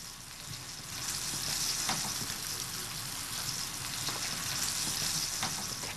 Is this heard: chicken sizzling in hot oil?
yes